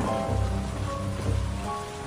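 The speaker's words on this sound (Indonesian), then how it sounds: "hujan tidak berhenti. Hujan terus turun selama 40 hari 40 malam" Steady rain falls, a constant dense patter with low rumbling underneath, continuous and even throughout without voices.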